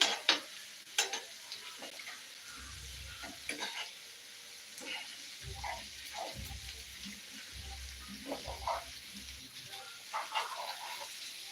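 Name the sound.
stirring mackerel fry and chicken fry in pan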